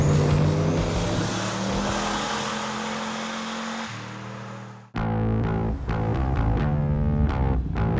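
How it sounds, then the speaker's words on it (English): A turbocharged car drives with a loud, sustained engine note that cuts off briefly, then returns with gear changes and rising revs, heard close with no talking. "There's nothing like driving a turbo car."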